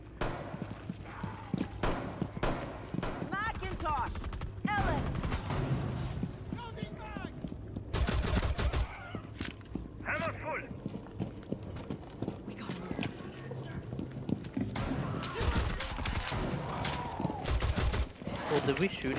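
Bursts of gunfire in the video game Rainbow Six Siege, in Outbreak mode, come in short volleys and single shots, mixed with game sounds while players talk over them.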